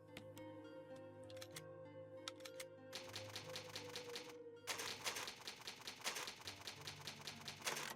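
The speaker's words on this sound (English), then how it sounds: "this is the typewriter" Typewriter clacks from the Resident Evil GameCube game ring out in rapid bursts, sparse keystrokes at first then a dense, loud flurry of crisp mechanical taps over a sustained musical drone.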